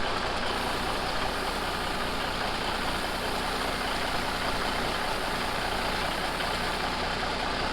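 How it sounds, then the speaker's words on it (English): Diesel truck with a Cummins 350 Big Cam engine and a new injection pump backing up out of a hole: a steady, dense engine rumble with broadband clatter, running continuously and fairly close, with no talk over it. "Paul Jr. is going to back this truck up"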